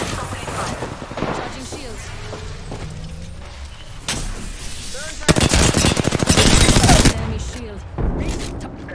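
In an Apex Legends ranked match, gunfire breaks out as scattered shots, then a dense, loud burst of rapid automatic fire lasting a couple of seconds, set among game noises and a voice talking.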